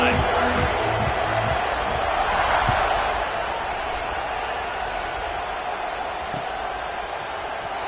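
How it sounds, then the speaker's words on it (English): Stadium crowd at an American football game roaring steadily after a touchdown drive as the kickoff unit takes the field, a broad dense wash of cheering that holds throughout and eases slightly, with play-by-play commentary over it. "this crowd is feeling themselves after that last drive"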